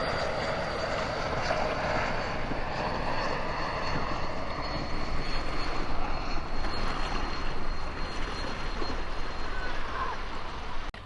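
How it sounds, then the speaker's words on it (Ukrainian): Steady roar of an airplane's engines passing low overhead above a beach in Larnaca, Cyprus, broad and sustained, swelling slightly midway as it passes, with no clear talking. "щоб спостерігати це все не над морем, а прямо над головою, щоб цей літак пролітав"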